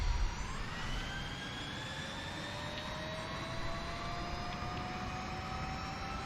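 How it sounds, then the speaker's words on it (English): A turbofan jet aircraft engine in the War Thunder game, a steady loud roar with a rising whine running throughout, no talk. "Yeah, I love turbofan engines. This is just an amazing sounding aircraft"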